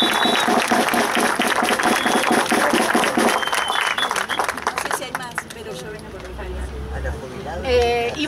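An audience at a torch march gathering breaks into loud, dense applause that fills the first five seconds, then thins out and gives way to a speaker addressing the crowd.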